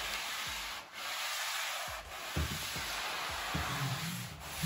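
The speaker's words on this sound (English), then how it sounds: "So we're sanding this." Wet sanding of drywall with a hand sander, a broad rasping scrub in repeated strokes of roughly one per second, close and steady, with brief pauses between passes and no talking.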